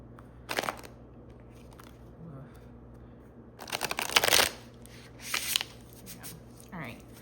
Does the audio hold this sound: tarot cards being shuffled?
yes